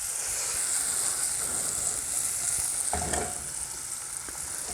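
Arrabbiata sauce of tomatoes, garlic and chilies sizzles and fries steadily in a pan after a splash of pasta water goes in, a dense close hiss with a brief louder burst of stirring partway through.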